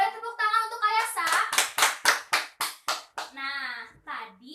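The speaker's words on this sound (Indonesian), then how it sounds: "Boleh tepuk tangan untuk Kayasa" Children clap their hands in a quick burst of about a dozen sharp, close claps, set between stretches of a child and an adult talking.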